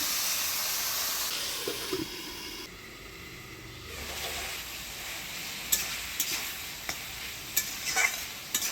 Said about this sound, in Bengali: ঢাকনা উঠে একটু নাড়াচাড়া করে নিলাম